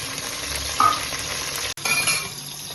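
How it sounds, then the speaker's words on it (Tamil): Small onions (shallots) and fresh curry leaves sauté in a pan with a steady, close crackling sizzle and a faint metallic clink partway through. "சின்ன வெங்காயம் கொஞ்சம் நல்லா வதங்கணும்"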